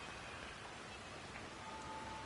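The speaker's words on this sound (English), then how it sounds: "You can see the rain." Steady rain falling in the Chongqing level of the virtual reality game Hitman, a soft, even hiss of drops on surfaces that stays constant and faint throughout.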